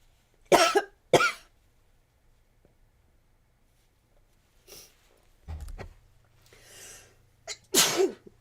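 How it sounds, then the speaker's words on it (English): Someone sneezing and coughing indoors, with two sharp sneezes, a pause, then a string of coughs and throat noises, ending in another loud sneeze. "me sneezing and coughing all over the place"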